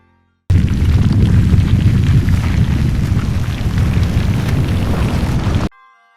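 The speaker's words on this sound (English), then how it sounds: "I love the concept of using bomb explosions to solve puzzles" A continuous roar of loud, rumbling bomb explosions in The Legend of Zelda: Breath of the Wild fills several seconds, then cuts off abruptly to near silence.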